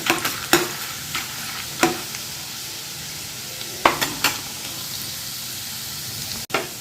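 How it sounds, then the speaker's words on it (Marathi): Puffed rice chivda mixture with roasted gram dal is sautéed in a pan, with a soft continuous sizzle broken by several distinct scraping stir strokes and clacks of a spoon against the pan. "एक मिनटं आपण हे सर्व परतून घ्यायचे"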